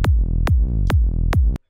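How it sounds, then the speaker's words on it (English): Sidechained kick and bass made in Ableton Live: four heavy, evenly spaced kick thumps, each ducking a sustained bass tone that swells back up between hits, loud and close. "And sidechaining sounds like this."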